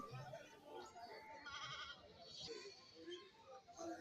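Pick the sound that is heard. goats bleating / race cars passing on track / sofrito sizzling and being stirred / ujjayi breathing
goats bleating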